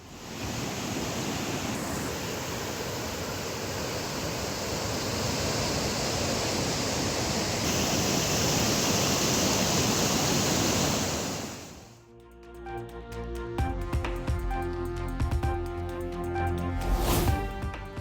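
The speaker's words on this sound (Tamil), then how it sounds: "கொட்டக்குடி ஆற்றில் சீறி பாய்ந்த காட்டாற்று வெள்ளம்" A flash flood on the Kottakudi river after heavy rain, its water surging in a loud, steady roar of rushing noise; the roar gives way to other sounds near the end.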